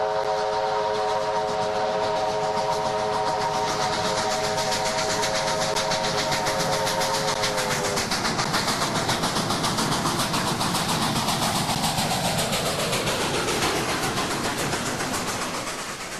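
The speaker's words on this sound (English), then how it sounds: "The locomotive power on this trip is brought to you by a classic 1918 Baldwin steam engine." A classic 1918 Baldwin steam locomotive sounds a long, loud chime whistle for about eight seconds over continuous heavy chuffing and rolling train noise, which keeps going steadily to the end.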